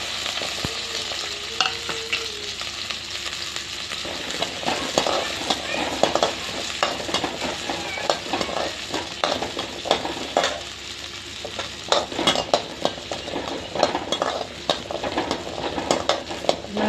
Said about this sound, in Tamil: சட்டி வச்சு ஆயில் ஊற்றிக்கிட்டோங்க. வெங்காயத்தை போட்டுக்கோங்க.